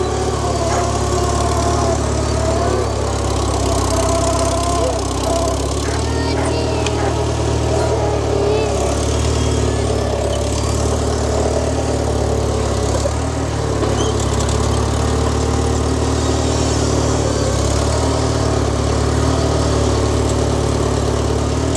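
A loader tractor's engine runs steadily nearby on a farm while a planter is moved, a loud, continuous low diesel drone with a slight throb and no break.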